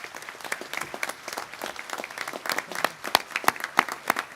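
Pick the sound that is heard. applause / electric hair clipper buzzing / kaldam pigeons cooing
applause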